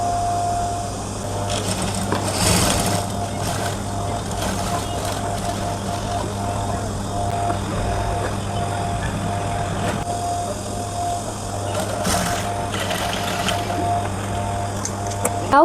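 Sewing machine stitching the shaped flat stand patti on an A-line kurti, a steady continuous motor hum with fine mechanical whir running throughout at close range, with occasional brief rattles and bursts of handling noise.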